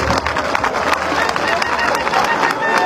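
A crowd at a political address to the people of Kogi Central applauds, a loud, continuous wash of clapping mixed with cheering and crowd babble, with speech running through it.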